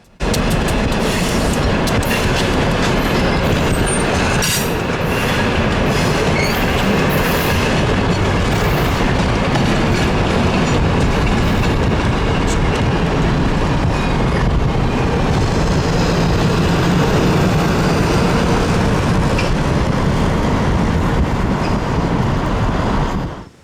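A train led by an A18 locomotive passes on a museum rail line, a loud, dense, continuous roar of wheels and cars with clickety-clack rhythm and some squeal, steady throughout with no talking.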